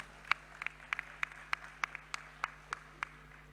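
Sparse, scattered claps from a small conference audience greet an honorary professor. There are only a dozen or so distinct hand claps against a quiet hum, and no one speaks.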